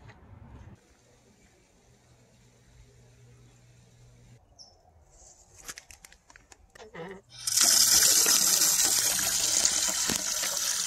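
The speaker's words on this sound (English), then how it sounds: "After getting my water at the Johnson Rock water spigot" Water runs from a spigot at Johnson Rock in the Angeles National Forest of the San Gabriel Mountains in winter. A few quiet handling clicks come first, then a loud, steady, close gush starts abruptly and keeps flowing.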